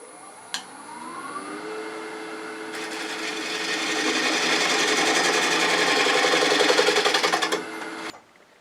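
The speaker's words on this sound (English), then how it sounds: "I think I'll get in there again with that detail gouge, clean it up" A detail gouge cleaning up a bug-infested cherry burl bowl spinning on a wood lathe: the motor hums up to speed, then a rapid, pulsing scraping cut builds and fades as the tool lifts away, close and alone.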